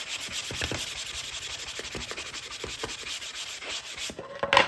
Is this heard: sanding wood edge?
yes